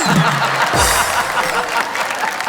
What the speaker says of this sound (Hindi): बज गई तालियां।